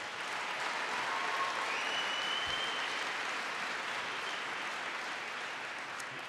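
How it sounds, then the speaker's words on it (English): A large audience applauds Governor Cuomo at a presidential economy speech in New York, a continuous, even roar of clapping heard from a distance, steady throughout with no talk over it. "Please give him a big round of applause."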